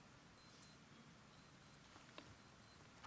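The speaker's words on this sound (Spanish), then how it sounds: "ha sonado la alarma, no sé por qué" An alarm goes off during a lecture on the expulsion of the Jews from Spain in 1492, giving three pairs of short high beeps spread over a few seconds, faint against quiet room noise, with no talking.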